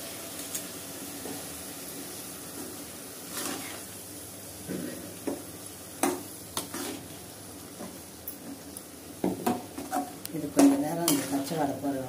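A spoon stirs a ground paste of mint, green chili and coriander in a pan while making rava idli. Light scraping and metallic clinks come intermittently, growing busier and louder toward the end.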